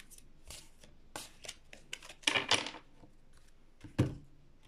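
A deck of playing cards is cut and handled on a table, giving a quick run of crisp riffling snaps and slaps, with one louder burst near the middle and a final clack, close and fairly clear.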